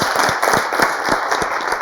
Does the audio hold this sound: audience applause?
yes